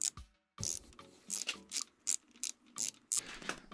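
Screws go into the water pump cover of a 2004 Yamaha 125 DTRE, heard as a faint series of short ratcheting clicks in irregular bursts with quiet gaps between them.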